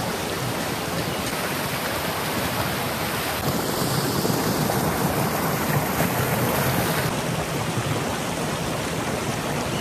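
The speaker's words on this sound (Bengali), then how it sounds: "এই যে কল্যাণেশ্বরী মন্দিরের ঠিক পিছন দিকটায় কিন্তু একটা সুন্দর একটা জলপ্রপাত রয়েছে" A waterfall behind Kalyaneswari temple fed by water released from Maithon Dam, heard as a steady, loud broadband rush and roar that continues unbroken throughout.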